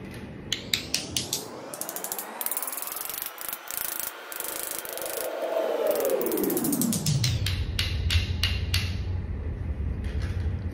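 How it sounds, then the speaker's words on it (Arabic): A jeweller closes a ring's bezel setting around a turquoise stone, making a close, steady grinding, ratcheting metal noise that rises and falls in pitch. Rapid clicking comes at the start and the end. "دي المرحلة بقى اللي بحاول استعدل فيها الشمبر، بقفله على قد الحجر بالظبط"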